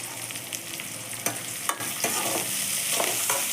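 Onions sautéing with salt in a pan, a steady close sizzle broken by sharp scrapes and clacks of a stirring spoon against the metal, with no voices.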